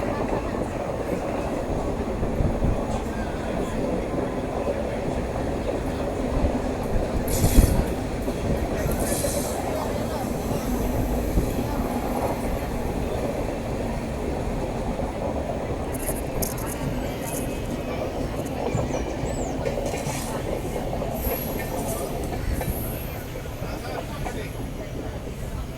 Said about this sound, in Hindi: यह है गुड्डूर सिकंदराबाद एक्सप्रेस, गुड्डूर सिकंदराबाद।